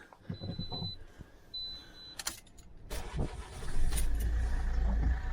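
A car engine cranks and catches, then settles into a steady low idle, heard up close with a few clicks beforehand.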